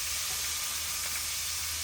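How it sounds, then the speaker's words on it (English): Beef sweetbreads fry on a Hiko wood stove, giving a steady, dense sizzle and hiss that continues evenly and fairly loud throughout. "we got stuff to fry up here"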